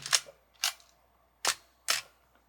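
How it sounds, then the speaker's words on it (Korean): A Nikon F3 film camera's shutter fires four times at close range, each release a sharp, crisp mechanical clack separated by short pauses, with no talking. "셔터 소리는 F3가 더 좋고요"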